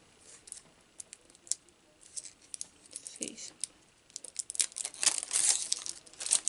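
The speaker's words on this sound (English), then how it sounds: "Got the plastic fully off." Plastic wrap is torn and peeled off a beauty product from an unboxing, a run of soft crinkles and sharp rips that start sparse and grow busier and louder toward the end, heard close.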